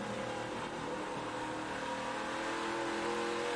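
A NASCAR Craftsman Truck Series race truck at IRP accelerates off a turn, its engine holding a loud, sustained, rising roar with a steady racing drone and no voices.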